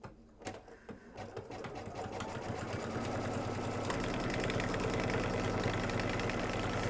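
An embroidery sewing machine stitches an in-the-hoop mug rug, its rapid mechanical needle chatter building from a few taps into a steady, loud, continuous hum close by.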